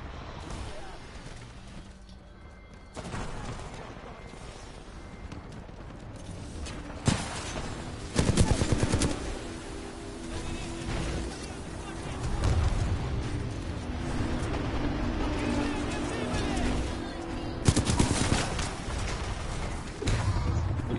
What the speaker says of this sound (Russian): Чего он стреляет?